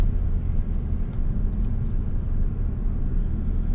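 A 2018 Ford Focus ST engine pulls hard in second gear with a manual gearbox, a steady, loud, low rumble with road noise heard from inside the cabin, continuous and without speech.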